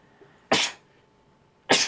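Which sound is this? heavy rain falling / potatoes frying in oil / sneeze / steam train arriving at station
sneeze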